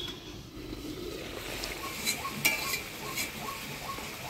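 Fried eggplant is added to a hot pan and stirred, giving a soft, steady sizzle broken by a few light clinks and scrapes of a utensil.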